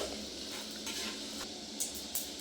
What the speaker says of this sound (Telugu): నూనె నెయ్యి అయితే కాగిందండి మసాలా దినుసులు అయితే వేస్తున్నా